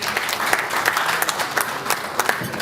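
An audience at an anniversary seminar dinner in a hotel in Kitwe, Zambia, gives a round of applause, loud dense clapping with distinct individual claps standing out near the microphone.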